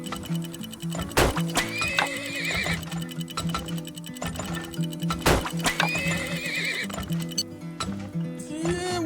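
Horses whinny loudly several times over a steady clip-clop of hooves, with a faint ticking in the background.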